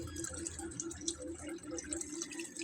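Water from a backyard tilapia tank overflows into a sponge mechanical filter, producing a soft continuous trickle with bubbly splashing and dripping, faint and close, without speech.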